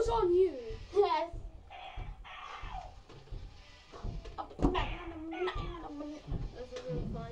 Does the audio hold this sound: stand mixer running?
no